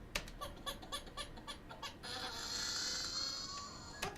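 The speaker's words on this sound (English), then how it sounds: "I took a baby scream" A processed, distorted baby scream: a run of short rhythmic cries giving way to a sustained, shrill wail that holds until the end.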